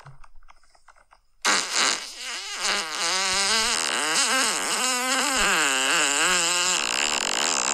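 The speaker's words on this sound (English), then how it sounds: "I love how a lot of these are just boyfriends farting on their fucking girlfriends." A long, loud, wavering fart from a played video clip, starting abruptly after near silence and rumbling on with bubbly, bumpy pitch changes for several seconds.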